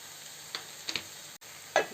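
Chaya leaves dropped into a hot pan with salt, a soft continuous sizzle broken by a few sharp crackles and stirring knocks close to the pan.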